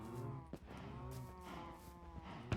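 Minecraft cows moo in a short run of low, drawn-out lowing calls, close and clear with no speech over them.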